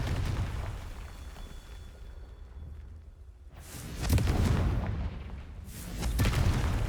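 Rumbling booms of the Confringo explosion spell in the video game Hogwarts Legacy, several heavy blasts swelling and fading over continuous game ambience with no talk.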